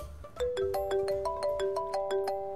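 A phone ringtone for an incoming call plays a quick, bright, repeating melodic chime pattern of distinct plucked-like notes, fairly close and clear, with no talking over it.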